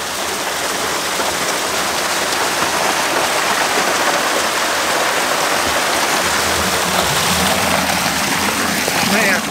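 Water rushes hard through a homemade dam spillway at an off-grid cabin, a loud steady roar and splash with a low churning swell near the end.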